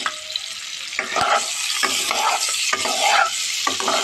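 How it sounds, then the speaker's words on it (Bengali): Boiled duck egg frying in a pan, salted, with a steady close sizzle and occasional stirring scrapes, no voices. "এই ডিমটাকে আমি সেদ্ধ করে একটুখানি লবণ মেখে ভেজে নিচ্ছি।"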